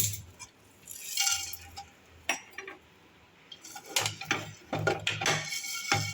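Mushrooms dry frying in a kadai for homemade mushroom curry, with a metal spatula scraping and clinking against the pan in irregular bursts, close and moderately loud.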